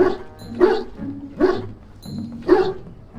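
Dog barking in a video game, four sharp loud barks spaced roughly a second apart, close and clear with no talking over them.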